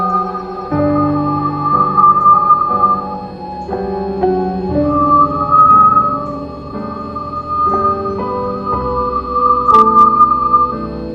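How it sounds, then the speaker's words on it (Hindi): Solar probe recording of a Langmuir wave rendered as sound: a steady, loud, layered tonal whistle with sustained pitched lines that shift in steps, playing alone with no voices. "अभी आप जो शांत और तेजी से बढ़ती हुई एक विसल जैसी आवाज सुन रहे हैं,"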